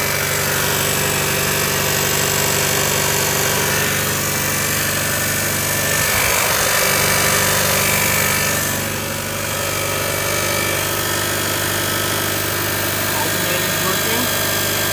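A Toyota Yaris project car's engine runs at a steady idle throughout, a close, continuous low drone with a brief dip midway, with people talking over it.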